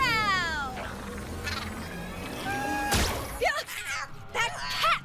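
A cartoon cat lets out several meows and wailing cries in a row, loud and close, mixed with other animated character sounds and a sharp whip-like crack partway through.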